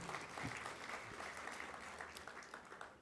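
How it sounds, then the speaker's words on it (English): Another round of applause for the council chair at a university performance management launch: a faint, continuous wash of many hands clapping from an audience, steady from start to finish. "Another round of applause to the council chair."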